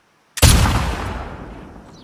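A single rifle shot fires in The Last of Us Part II, a sharp loud crack after a moment of silence, followed by a long booming decay that rings out and fades over about two seconds.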